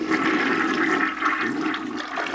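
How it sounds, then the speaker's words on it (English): A toilet flushing up close, a steady rushing swirl of water draining away that carries on through the whole clip with no talking. "Have you ever flushed a toilet?"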